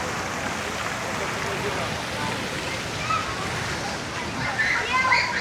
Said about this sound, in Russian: здесь у нас аквапарк для детей. Вот все купаются.